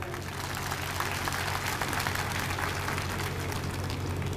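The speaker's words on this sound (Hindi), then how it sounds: "आप सभी के लिए एक बार जोरदार तालियां हो जाएं" A large crowd at a BSP party review meeting in Haryana gives sustained, loud applause, a thick, steady roar of clapping with a constant low hum beneath it.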